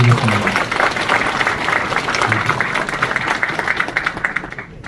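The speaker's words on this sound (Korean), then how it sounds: "큰 박수로 이렇게" Cooperative members at an annual general meeting and ceremony of Nampyeong Nonghyup give a big round of applause, dense and continuous clapping that thins slightly toward the end, with some talk mixed in underneath.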